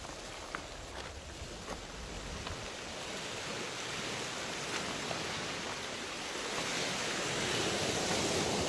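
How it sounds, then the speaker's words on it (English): Ocean waves roll up onto the shore at Donkey Beach, a steady broad wash of surf that slowly swells louder over several seconds, heard at a moderate distance with no talking. "the sound of the waves just rolling up on the seashore"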